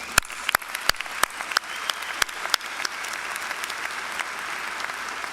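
A commencement audience applauds the Air Force ROTC Color Guard, and the clapping rises at once into a steady, dense wash. Louder individual claps stand out near the front early on before the sound settles into even applause.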